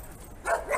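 Dogs in a video game giving a short, sharp bark or two, close and clear over a faint low background hum.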